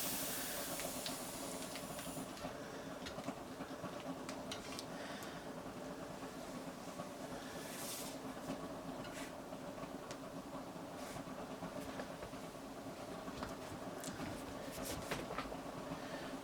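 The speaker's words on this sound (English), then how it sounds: "It might be better if I let some air out of this as well" Air hisses steadily out of a tyre that has an egg-shaped bulge, a continuous, fairly faint rushing sound that runs unbroken for about sixteen seconds with no voices.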